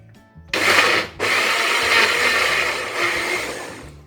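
A blender blending juice whirs loudly up close, starting abruptly, dipping briefly after a moment, then running steadily at high speed before easing slightly.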